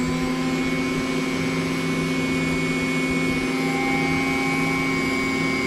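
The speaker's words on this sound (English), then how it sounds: "I got the Dremel running fairly slow." A Dremel rotary tool cuts into soft basswood at slow speed, holding a steady whining hum with a grinding rasp underneath, continuous and close.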